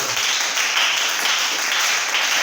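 A congregation at a worship service applauds and cheers in a steady, dense wash of clapping that holds evenly throughout with no pauses.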